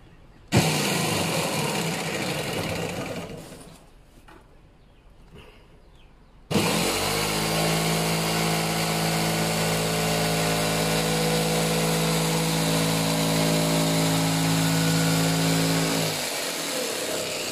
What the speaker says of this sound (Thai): ถ้าเราตั้งใบเลื่อยจิ๊กซอแล้วเราก็ตัด